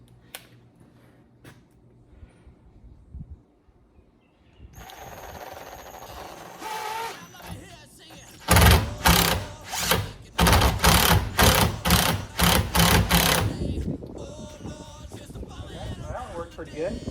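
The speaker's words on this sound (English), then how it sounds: "I'm going to countersink these little heads." A power drill countersinking screw heads in wood for a DIY firepit poker, whirring in short repeated bursts with pauses between, loud and close after a quieter start.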